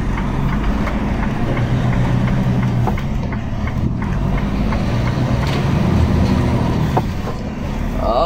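A big truck engine idles and rumbles steadily on the N2 near Kokstad, a loud, continuous low drone close by with no talking over it.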